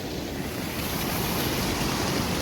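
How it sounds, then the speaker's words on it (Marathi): The Kajali river, flooded during the Konkan monsoon, rushes past in a steady, loud, broadband roar of churning water with wind noise and no voices. "ही आहे आमच्या वरच्या साईडची काजळी नदी."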